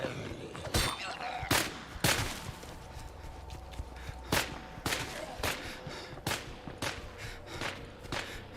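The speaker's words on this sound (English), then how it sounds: "I just shot off some unsuppressed handgun shots" Unsuppressed handgun shots in the State of Decay 2 zombie survival game, a string of sharp single cracks spaced irregularly over a low ambient background.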